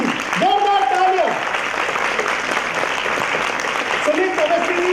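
Applause from an audience at a university induction programme, a dense steady wash of clapping throughout, with voices talking over it at the start and again near the end.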